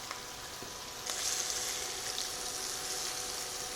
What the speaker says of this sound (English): Now we're just going to give these a fast sear.